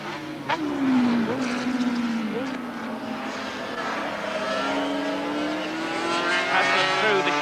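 A 1984 Honda Grand Prix racing motorcycle ridden by Haslam screams past, its engine pitch rising and falling through gear changes as it passes through a chicane, loud and continuous over crowd and ambient noise.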